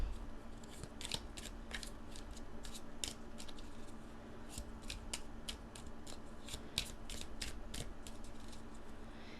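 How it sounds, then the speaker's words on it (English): Repeated crisp riffling and snapping of tarot cards being shuffled, short bursts in an uneven rhythm, close and fairly quiet, with no talking. "This is why I do the bulk of my shuffling off camera, because it takes so long"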